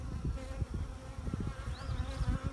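Honeybees buzz steadily around a hive frame while a swarm's queen is located, a continuous close insect hum with small rising and falling swells.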